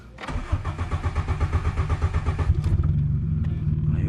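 A 1990s carbureted car engine cranks with a rapid rhythmic starter churn for about two and a half seconds, then catches and settles into a rough, loud idle close by.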